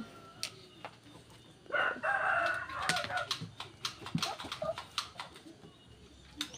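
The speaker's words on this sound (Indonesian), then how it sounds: "Tuh di situ ada entok, ada jago ya." A rooster crows loudly in a village yard where a muscovy duck is also present, with clucks and other fowl calls scattered around it outdoors.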